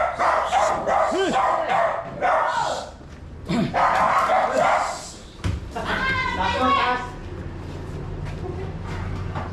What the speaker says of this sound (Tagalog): Galit na galit yung mga aso, mga tropa.